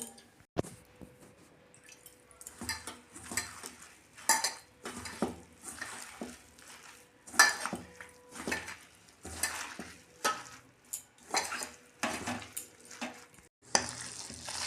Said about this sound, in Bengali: বন্ধুরা, আমি এরকম করে মেখে 2 মিনিট আমি রেখে দেবো।